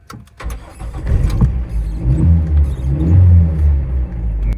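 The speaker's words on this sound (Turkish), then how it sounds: "Arabanın çalışma performansı da böyle." A 32-year-old car's engine idles and revs close up, a loud, steady low rumble that swells with each press of the throttle and keeps running throughout, with no talking.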